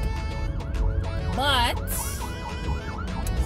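Emergency sirens wail and warble nearby, rising and falling in pitch, with a voice briefly speaking over them.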